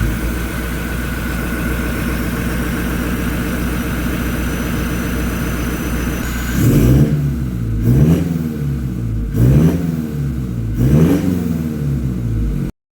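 Toyota Innova Reborn diesel fitted with an RGN titanium full-system exhaust and down pipe, idling steadily at first, then blipped through four sharp revs that swell and fall back in a rhythmic pattern, loud and close.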